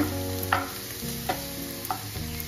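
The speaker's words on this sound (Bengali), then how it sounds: "এদিকে আলু ভাজা বসিয়ে রেখেছি, হচ্ছে।" Potatoes frying in a pan for aloo bhaja: a steady sizzle close by, broken by a few scraping stirs of a spatula.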